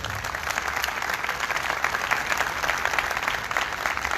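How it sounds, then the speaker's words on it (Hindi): A large gathering at a religious event honoring Mary bursts into dense, sustained applause, many hands clapping steadily at close range with no break. "तो हम सब मिलकर खुदा की अक़दस शान में भरपूर तालियां बजाएं"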